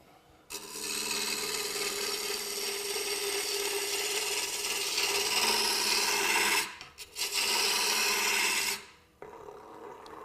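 A chisel shaves a spinning wooden workpiece on a wood-turning lathe, a steady rasping cut that holds for several seconds, breaks off briefly, resumes, then stops, close and alone.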